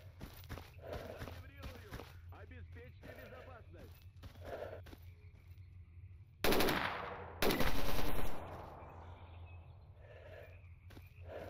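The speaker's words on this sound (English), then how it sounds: "Do like the sound of this gun though," A gun fires in the video game STALKER Anomaly: two loud, dense bursts of automatic fire stand out after a stretch of busy ambient game sound with footsteps and faint animal-like bleats.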